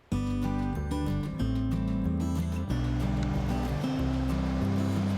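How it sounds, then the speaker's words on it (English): A steady rush of falling water roars continuously under a looping instrumental melody, loud and unbroken throughout. "What a very nice waterfall."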